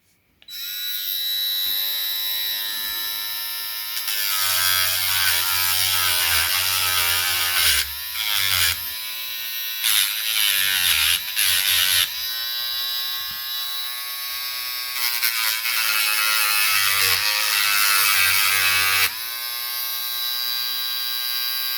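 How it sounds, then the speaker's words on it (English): A resin scratch card scratcher is filed down. A loud, steady motorized buzz runs almost the whole time, its pitch dipping and surging in uneven stretches as the tool bites. "what I'm going to do now is file it down"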